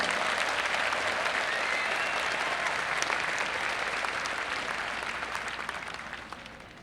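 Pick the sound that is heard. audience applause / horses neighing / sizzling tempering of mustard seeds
audience applause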